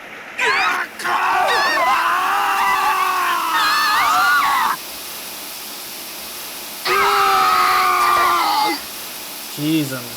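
Screaming from the Zero Time Dilemma decontamination scene: two long, loud, strained human screams, each held for several seconds with a wavering pitch, separated by a quiet pause, with a brief vocal sound at the end.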